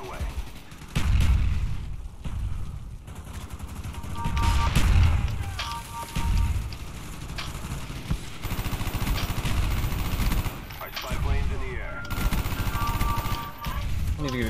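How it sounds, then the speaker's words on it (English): Repeated grenade blasts and gunfire in a video game battle, heavy low booms recurring throughout, dense and loud with constant combat noise. "it's so much grenade spam"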